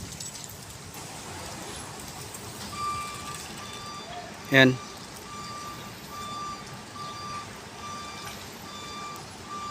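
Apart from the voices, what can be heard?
truck arriving and reversing with beeps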